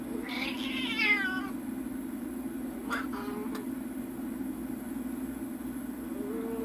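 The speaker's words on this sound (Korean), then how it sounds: "미선이가 추루를 먹고 싶어서 이렇게 찡찡거리니까 추루를 하나 좀 줄까요" Cat giving a drawn-out, whiny meow early on and then a couple of short chirps, begging for a Churu treat, over a steady background hum with no talk.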